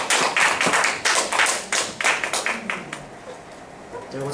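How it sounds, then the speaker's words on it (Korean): Scattered applause from a small audience welcoming a lecturer at a workshop on disability awareness, a few loose uneven claps and thumps that thin out and fade toward the end. "큰 박수 부탁드리겠습니다"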